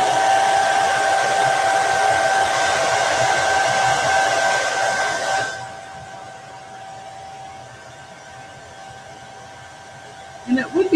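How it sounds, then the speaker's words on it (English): A handheld hair dryer blows steadily and loudly to dry ink on a custom dish towel, a constant whoosh with a faint whine, then cuts off midway, leaving quiet room tone and a brief sound near the end. "We'll get my blow dryer out."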